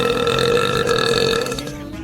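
A single long, loud, resonant burp from a female VTuber lasts about two seconds, strong and close before it fades at the end. It is heard on its own, with no talking over it.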